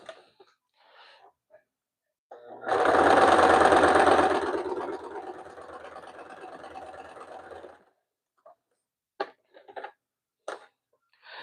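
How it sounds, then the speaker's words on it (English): A sewing machine stitches through foam, running loud and steady for about two seconds and then settling into a quieter, continuous mechanical whir for several more, with brief faint sounds before and after. "fighting the evil sewing machine"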